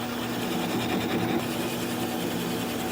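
A wood lathe turns a small sycamore bowl while a gouge cuts and the speed is brought down toward 200 RPM, giving a close, continuous motor hum with rough scraping texture.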